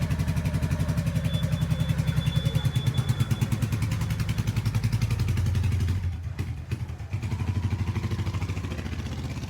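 A Honda Shadow Sabre 1100 motorcycle runs close by with a rhythmic, loping engine pulse that holds steady, wavers briefly near the end, then settles again.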